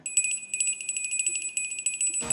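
A door bell at a salon rings in a rapid, bright repeating trill, fairly close and alone, breaking off abruptly as a voice begins.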